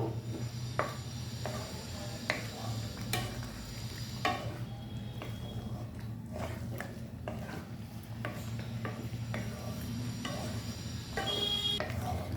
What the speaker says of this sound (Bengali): এবার দিয়ে দেবো সেটা হচ্ছে পনিরটা। দিয়ে ভালো করে নাড়াচাড়া করে নেব।